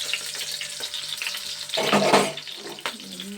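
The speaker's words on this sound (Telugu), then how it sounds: "మూత నూనె పైకి ఎగురుతుందండి." Oil sizzles and spits in a frying pan during cooking of a jackfruit seed and raw mango curry, a low steady frying hiss that swells into a louder burst of splattering near the middle before settling back.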